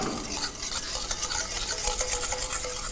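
Milk comes to a boil in a pan on the stove while being stirred, giving a continuous loud bubbling hiss mixed with repeated scraping strokes of the spoon, with no talking.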